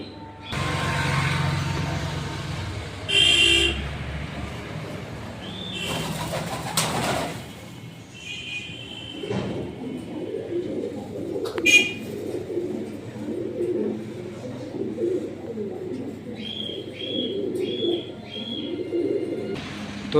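Yellow house pigeons in a pet shop in Kolaghat, West Bengal, cooing in soft repeated low burrs. Scattered chirps and clanks from the shop come through early, and the cooing runs steadily through the second half.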